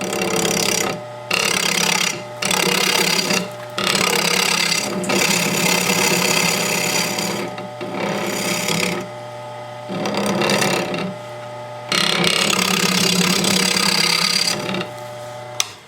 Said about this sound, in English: I turn my gouge, my roughing gouge, right up on its edge and work into that corner